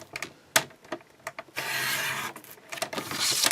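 A piece of cardboard being cut for a handmade card, with several short scratchy strokes followed by a longer rasping cut, close and fairly quiet with no talk.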